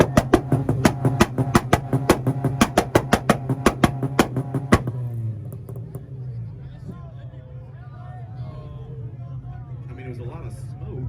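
A Honda CR-V's two-step launch limiter fires at a North Carolina car meet, a rapid machine-gun string of loud, sharp engine bangs for several seconds. It then cuts off, leaving an idling engine under crowd chatter and nearby talk.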